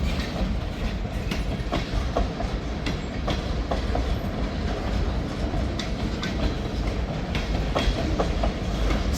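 A freight train hauled by three locomotives rolls past at close range, with continuous heavy rumble and rhythmic clickety-clack of wheels over rail joints and occasional faint wheel squeal, no voices.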